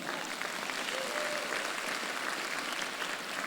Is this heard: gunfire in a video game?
no